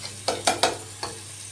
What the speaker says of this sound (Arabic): نقعد بقى نقلب لحد ما البصل يدبل شويه.